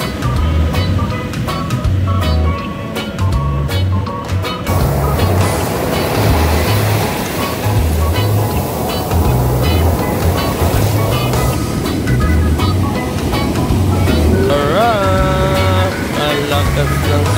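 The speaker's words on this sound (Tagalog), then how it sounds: "Lakas ng alon." Strong ocean waves surge and crash continuously on the coast around La Union, a loud rushing wash under a repeating low rumble, with excited voices talking over it.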